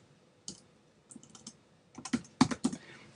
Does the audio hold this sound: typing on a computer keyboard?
yes